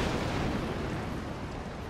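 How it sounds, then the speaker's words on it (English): An airship cannon in Worlds Adrift is hit and blown off, producing a dense, rumbling, explosive burst that stays loud and close throughout. "My cannon got shot, blown off."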